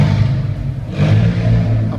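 An Alfa Romeo 4C sports car engine rumbles loudly and close at its first public showing in Denmark, a deep steady growl that swells slightly partway through.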